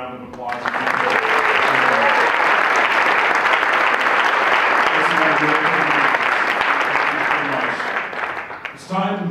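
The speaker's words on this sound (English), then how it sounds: "Let's give them all a round of applause." Sustained audience applause fills a hotel luncheon hall at the Sheraton Boston, loud and steady for about eight seconds, with a few voices audible as the clapping fades at the end.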